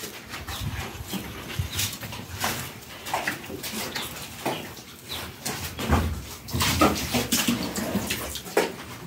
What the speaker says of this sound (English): You can see the water is pouring on my body.